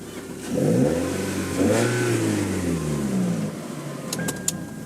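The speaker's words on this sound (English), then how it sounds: "I'll give you a little rev here." A 1999 Toyota Altezza RS200 Z-Edition engine with a Kakimoto aftermarket exhaust revs up and back down in a smooth rising and falling sweep, close by and loud, with the idle continuing afterward.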